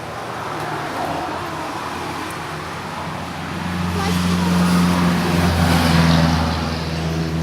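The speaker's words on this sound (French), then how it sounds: "c'est au bord de la route, c'est un peu bruyant" Roadside traffic rumbles beside a Thai street food stall, with a steady wash of road noise and a louder vehicle engine drone swelling as it passes close by, then easing off.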